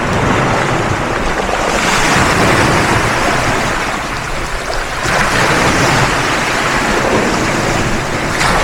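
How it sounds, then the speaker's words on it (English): Loud, continuous surf washes in, swelling and receding in broad waves, with heavy wind buffeting the microphone throughout. "Let me show you the sea."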